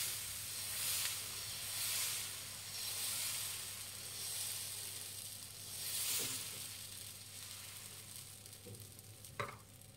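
A soft dosa cooks on a hot pan with no oil, giving off a quiet, steady sizzle that swells and fades in gentle waves. A few sharp scrapes and taps from a utensil come near the end.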